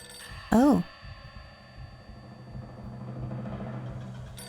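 A single short, loud electronic telephone ring warbles in the video game Nancy Drew: The Final Scene, followed by quiet ambient background.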